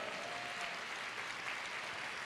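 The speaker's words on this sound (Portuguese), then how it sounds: "Vamos aplaudir ao Senhor." A church congregation applauds during a worship conference, a steady, dense wash of clapping held at a moderate, even level throughout, with no voices standing out.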